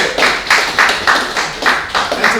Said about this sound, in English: Round of applause for Jesse.